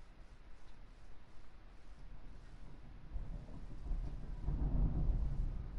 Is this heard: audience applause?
no